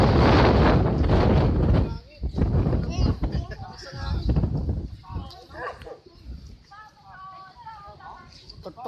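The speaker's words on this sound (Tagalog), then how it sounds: "Ang lakas ng hangin." Strong wind buffets the microphone on the summit of Mayon Volcano, a loud roaring rumble in gusts that later eases, with people talking through it.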